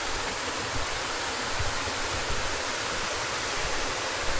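A waterfall along a river trail, a steady, loud, broadband rushing roar with no pauses and no voices.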